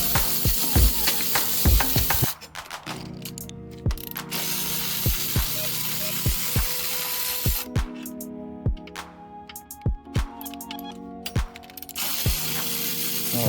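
A ratchet wrench clicks steadily while loosening the 10mm bolts on a BMW X1 stabilization bar, with close, crisp repeated pawl ticks in short runs and brief pauses between strokes.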